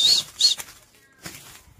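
A pigeon bursts into flight with a couple of quick, close wing-flap flurries, then a softer second flutter a moment later, with no voices.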